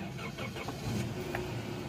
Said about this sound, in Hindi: तो अभी मैं गाड़ी को सेल्फ लगाता हूँ